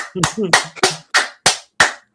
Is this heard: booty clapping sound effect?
yes